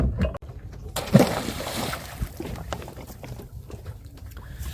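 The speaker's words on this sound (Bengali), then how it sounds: "আরও একবার জাল ফেলা হবে" A fishing net is cast into a river from a boat during fishing in the Sundarbans, giving a sharp splash and watery rush near the boat, followed by lapping water and soft wind noise.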